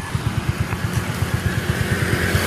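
Motorcycle engines rumble steadily, with rapid pulsing putts as many bikes pass close by on a busy street near an LRT-1 terminal.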